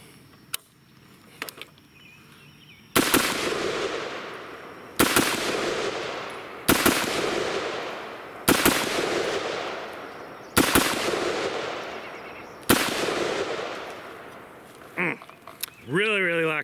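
Rifle fired with a Primary Arms SLx MD-25 red dot optic at a target outdoors: six loud, sharp shots spaced a second or two apart, each ringing out with a decaying tail, followed by a brief rattling clatter.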